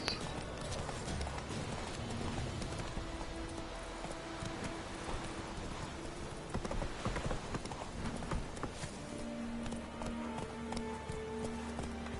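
Roach the horse galloping in The Witcher 3, a rapid steady run of clip-clop hoofbeats with a faint background music bed underneath.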